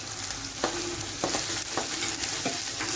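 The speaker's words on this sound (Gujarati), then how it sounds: "કેપ્સિકમને પણ થોડી વાર સાંતળીશું" Capsicum sautéing in hot oil with onion and ginger-chili paste for cabbage Manchurian, a dense close sizzle with several sharp spatula scrapes against the pan, no voices.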